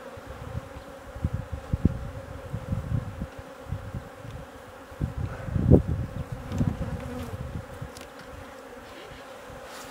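Bees buzz steadily around a beehive while frames are handled, a dense insect drone with louder swells and a few near passes, no talking.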